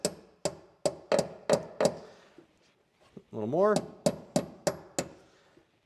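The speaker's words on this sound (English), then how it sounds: "with a little tap of a hammer, it might also go through" A hammer taps a QA1 coilover ring into place on a C5 Corvette, a dozen or so sharp metallic knocks in two bursts of six, close and loud, with a short spoken remark between them.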